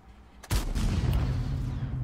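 A single heavy tank cannon blast in World of Tanks booms out after a brief quiet moment, then rumbles and decays into a lingering low roar.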